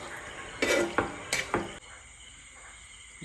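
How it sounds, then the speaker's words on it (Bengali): A spoon scrapes and clinks against a pan while capsicum is stirred with spices, about four distinct clattering strokes close by, then a quiet hiss of cooking. "ঢেলে দিয়েছি ক্যাপসিকামটা, এইবার একটু কষবো মশলাটার সঙ্গে।"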